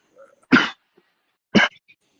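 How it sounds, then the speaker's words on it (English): Two sharp, separate coughs, close and loud, with a silent pause between them. "flower makes me cough like that sometimes"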